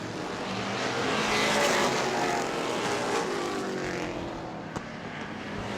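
Race cars roar around an oval track at a weekly evening race, a dense, loud engine drone swelling and fading as the cars pass, with a brief sharp knock near the end and no voices.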